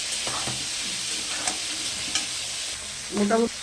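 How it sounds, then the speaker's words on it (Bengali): Frying potatoes hiss continuously in a pan, punctuated by a few spatula taps and a brief louder metallic scrape near the end. "আলুটা একটু ভাজা ভাজা হয়ে গেলে মশলাটা আমি দিয়ে দেবো।"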